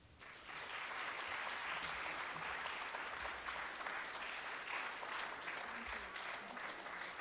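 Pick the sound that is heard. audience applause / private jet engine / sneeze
audience applause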